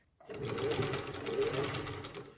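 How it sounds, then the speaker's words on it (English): A sewing machine runs a straight stitch along the ruffle seam of a large petticoat, starting after a brief silence and then whirring steadily and close for about two seconds. "I'm just going to go over this again with another straight stitch"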